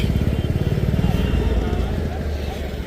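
Royal Enfield Bullet motorcycles thump past with a loud, rapid engine beat close by, while people talk over the rumble.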